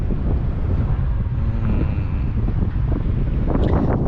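Strong wind blows into a microphone outdoors beside a city road near an international airport, making a loud, continuous low rumbling buffet that lasts the whole time, with no speech.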